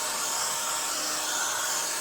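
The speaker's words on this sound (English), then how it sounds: "I have seen this done before with a hairdryer" A hair dryer on its low setting blows steadily at close range, a constant breathy airflow hiss with no talking.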